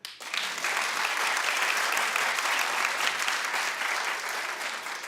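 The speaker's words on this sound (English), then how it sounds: "Clap if you do." A television talk show studio audience breaks into steady, enthusiastic clapping that starts abruptly and holds at a constant level throughout.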